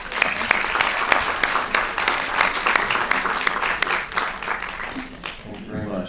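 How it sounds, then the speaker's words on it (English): Sustained applause from a conference audience after a keynote speech at an academic migration conference, dense steady clapping filling the room for several seconds before fading slightly at the end, with a voice briefly emerging. "So a warm round of applause for Linda"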